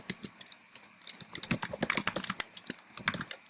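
Rapid, close clicking of keys on a computer keyboard while logging into an account, uneven bursts of crisp taps with brief pauses between them and no talking.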